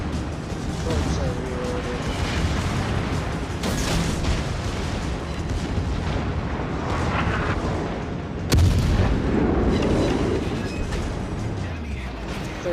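A cruiser in World of Warships fires a gun salvo with heavy booming blasts. Continuous battle rumble surrounds the shots, a sharp new salvo cracks out later, and a player talks over the noise.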